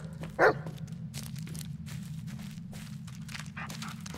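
A single short dog bark in the Blair Witch horror video game rings out early over a low steady hum, followed by soft scattered footstep-like clicks and rustles.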